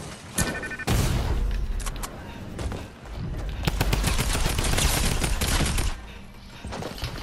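Rapid bursts of gunfire in Fortnite, loud and close, with sustained automatic volleys and a few separate booming shots over roughly seven seconds.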